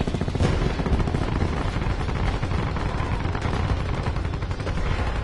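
Dense, continuous gunfire in a PS4 shooter game as rounds strike a robot, a loud rapid crackle of overlapping shots with no pauses throughout.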